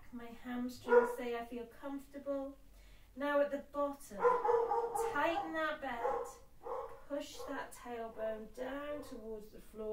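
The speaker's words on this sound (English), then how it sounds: "Excuse the dog barking." A dog barks next door at a distance, with yips and whimpering sounds under a woman's steady instruction during a gentle Pilates session indoors.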